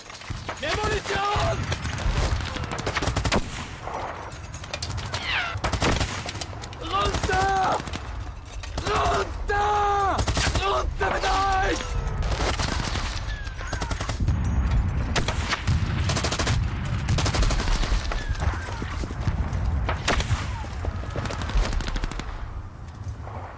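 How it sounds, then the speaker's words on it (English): Rapid machine gun fire rattles through a World War I battle on the Somme, dense repeated bursts mixed with shots and mechanical clatter, while voices shout over the din throughout. "For Lieutenant Cassel and his machine gun unit, the advancing troops are an easy target"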